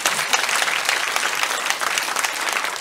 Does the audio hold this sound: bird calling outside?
no